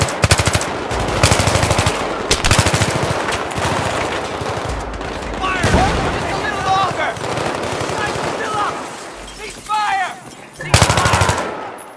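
Rapid automatic gunfire from Battlefield 3 rattles in dense repeated bursts with single shots between, loud and close, with short pauses and a final burst near the end.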